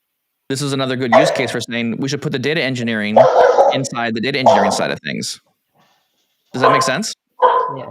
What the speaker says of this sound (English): I'm so sorry for the dog barking